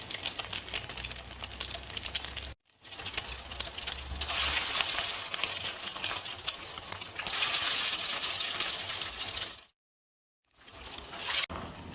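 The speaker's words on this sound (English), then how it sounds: "Now add egg battered patty into the oil." An egg-battered chicken shami kebab patty fries in hot oil in a wok, giving a loud, close, crackling sizzle that swells and fades, with a brief silent break near the end.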